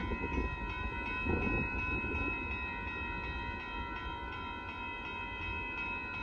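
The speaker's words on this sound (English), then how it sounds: "Grain train's finally pulling up, you guys." Northbound Union Pacific grain freight train pulling up at a road crossing in Austin, Texas: a steady, loud rumble of rolling cars with sustained tonal hum and wheel noise, continuous throughout without voices.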